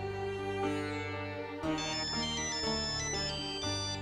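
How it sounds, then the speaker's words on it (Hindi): A melodic phone ringtone plays continuously, bright synthesized notes stepping through a tune, loud and clear with no talking. "माँ का फोन।"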